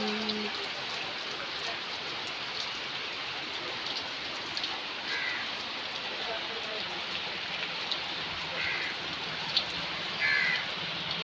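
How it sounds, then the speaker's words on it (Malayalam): Heavy rain pours steadily at Adoor temple, a dense, even hiss on the surface throughout, with a few crow caws breaking through faintly in the background. "നല്ല മഴയാണ്"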